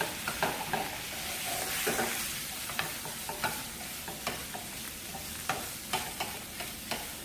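Indomie instant noodles being stirred with their spice seasoning, a steady scraping and clinking of utensil against pan with soft sizzling underneath and regular sharp taps standing out, close and moderately loud.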